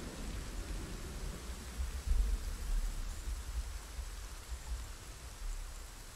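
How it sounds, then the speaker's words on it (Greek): Rain falls in a video game, a soft, steady hiss of downpour with low rumbling swells, faint and continuous with no voices. "Τώρα που κάνει θόρυβο η βροχή."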